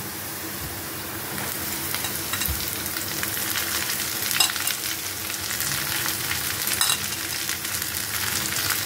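Water spinach sizzles loudly with browned onions in a frying pan, a steady dense crackle and hiss close by with a few faint clinks, no voices.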